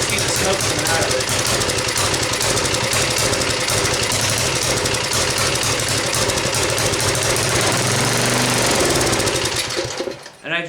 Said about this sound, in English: You guys seen and heard how it ran. It's not running good.